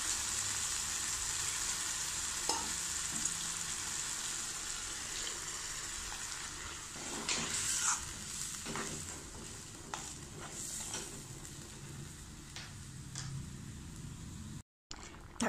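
Tomato gravy cooking in a pan, a soft continuous simmering sizzle with intermittent scraping and clinks of a spoon stirring, fairly quiet and close, with no voices.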